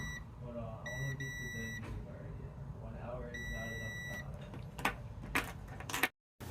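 A multimeter gives short electronic continuity beeps in two clear groups while testing a car remote with a cracked case, heard close under ongoing talk and small handling noises.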